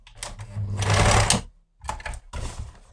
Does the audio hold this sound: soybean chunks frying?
no